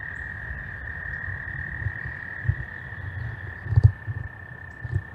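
Frogs croaking at night, a few low throaty calls rising in short clusters over a steady high insect drone, moderately close and with no voices.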